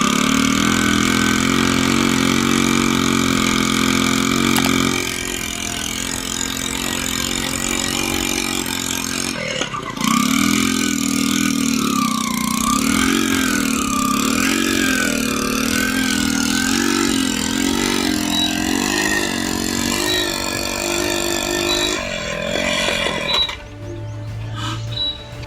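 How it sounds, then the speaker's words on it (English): A 35 horsepower Hornsby diesel engine starts and runs loud and close, settling into a steady throbbing idle with a wavering tone before it cuts off near the end. "This classic 35 horsepower Hornsby diesel engine starts up with grit and purpose."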